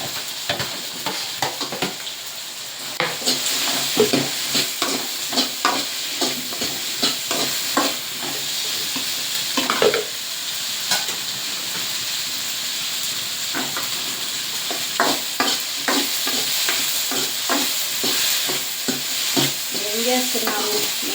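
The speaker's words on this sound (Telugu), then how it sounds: "ఇదిగోండి బెండకాయ వేస్తుంది" Okra stir-fried in a pan makes a steady, close sizzle and hiss throughout, broken by repeated scraping and stirring clatters of a utensil against the pan, with no speech over it.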